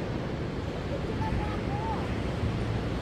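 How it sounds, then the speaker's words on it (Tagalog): Steady broadband rush of sea waves heard from a high lookout in Taitung, with wind buffeting the microphone throughout and a faint distant voice. "So, yan ang dagat."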